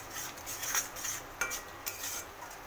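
A spoon stirs and scrapes homemade black masala with turmeric in hot oil in a metal pan, giving several close clinks and scrapes over a soft continuous sizzle.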